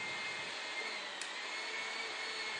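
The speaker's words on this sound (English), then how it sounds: "Bump the button and observe the wrench to make sure it is secure." A HYTORC hydraulic torque wrench pump runs with a steady, loud broadband whir that holds evenly throughout, alone with no talk.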